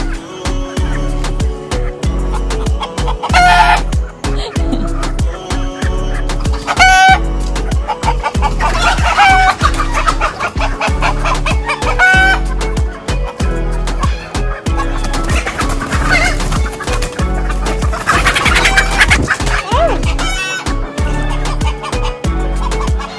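Hens clucking steadily inside a chicken coop on a homestead, a mix of younger and older birds, with overlapping close calls and occasional louder squawks throughout, no talking.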